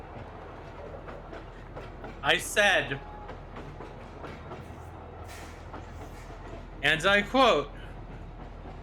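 A train sound effect plays twice, each burst a short loud rush of screeching, whistling rail noise, with people talking around it.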